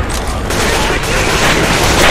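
Loud, dense gunfire from several weapons in the Left 4 Dead 2 Dead Center atrium finale, a steady rattling barrage that never pauses for the whole stretch.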